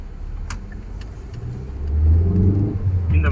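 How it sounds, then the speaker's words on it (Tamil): Used Ford EcoSport with about 1.5 lakh km on it, accelerating hard with the engine revving up to 3000 RPM; a steady engine drone swells into a louder, deeper roar midway and holds there, heard from inside the car. "ஸோ 3000 RPM நம்ம மிதிச்சிட்ருக்கோம்."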